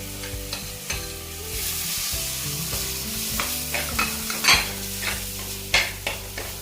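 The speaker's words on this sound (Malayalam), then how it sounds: "മുളകിൻ്റെ മല്ലിയുടെയൊക്കെ പച്ചക്കുത്ത് മാറുന്ന വരെ നമ്മൾ ഒന്ന് ഇളക്കി കൊടുക്കുക" Chili, coriander and turmeric powders frying in oil for a sardine curry, stirred with close scraping strokes over a steady sizzle, with occasional louder knocks against the pan.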